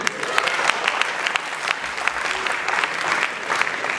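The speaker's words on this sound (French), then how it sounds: "Applaudissez." A festival audience breaks into sustained applause, dense crackling claps from a large crowd at steady loudness throughout.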